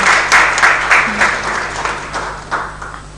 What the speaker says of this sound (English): Can we have a round of applause for Sunita?